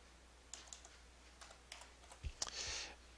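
A few quiet, scattered keystrokes tap out a stock ticker on a computer keyboard, close but faint with no talking.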